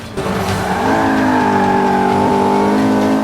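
A race car in Forza 5 brakes late and drifts through a corner, its engine note holding a steady, loud whine with tire squeal layered over it, close and continuous with no talk.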